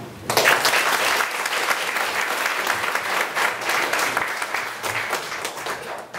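Loud, sustained applause fills a hall at the founding convention of the Justice Party's North Gyeongsang provincial chapter in Pohang, many hands clapping steadily for several seconds without a break.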